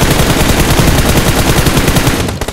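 Rapid automatic gunfire in the battle-royale game BGMI (PUBG) during a tournament match, a loud, dense burst of shots filling the moment and cutting off abruptly at the end.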